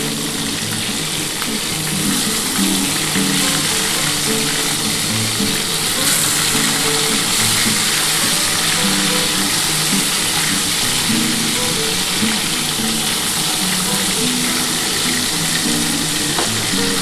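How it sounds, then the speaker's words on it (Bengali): Tilapia fish pieces fry in hot oil with a loud, dense and unbroken sizzle lasting the whole stretch, close up, with faint stirring and no voices. "এটা একটু ভেজে নিচ্ছি। এটাও একটু কড়া করে ভাজা হয়ে গেলে আমি তুলে নেব।"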